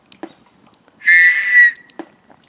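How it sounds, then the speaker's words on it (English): A survival whistle built into a Marco Polo survival knife gives one loud, shrill, sustained blast of about half a second, close to the microphone, between faint handling clicks. "survival whistle."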